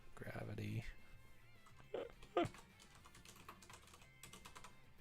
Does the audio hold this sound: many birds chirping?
no